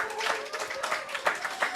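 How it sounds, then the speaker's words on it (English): A high school audience claps for its homecoming court, scattered hand claps swelling in several short bursts over a steady tone, fairly close and moderately loud. "Everybody give them a round of applause."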